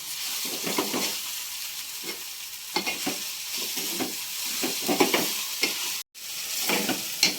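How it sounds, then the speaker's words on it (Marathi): Sliced okra sautés in a hot pan, a steady close sizzle broken by repeated scraping strokes of a spatula, with one brief dropout near the end. "अशी परतून घेते भाजी"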